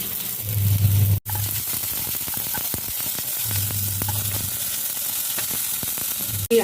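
Dried red chillies, turmeric and cumin powder sizzle and fry in hot oil, with a continuous close crackle, brief stirring scrapes and a short clatter partway through.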